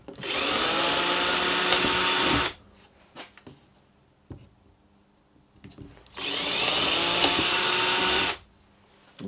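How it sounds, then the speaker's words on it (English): Power drill boring pilot holes through plywood on a small scrap-built rowing tender, two loud sustained bursts of drilling with quiet workshop clicks and knocks between them. "I'm just going to pilot these holes so they can come through from the other side"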